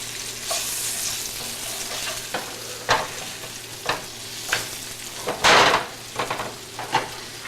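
Battered food frying in a pan, with a steady soft sizzle and a series of sharp clicks and scrapes from a utensil against the pan at irregular intervals, close by.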